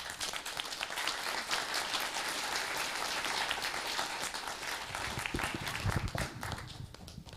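An audience at a science symposium on Clear Lake claps steadily, a dense round of applause sustained throughout at moderate distance, with no voices over it.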